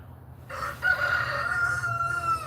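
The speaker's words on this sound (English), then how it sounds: "chickens like to hang out right there." A rooster crows loudly and at close range in a yard where chickens gather, one long drawn-out call over low steady background noise, with no talking.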